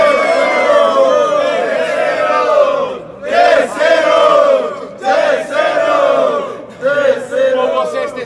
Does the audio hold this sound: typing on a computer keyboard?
no